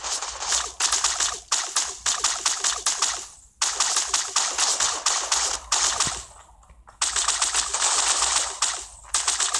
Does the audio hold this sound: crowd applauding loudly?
no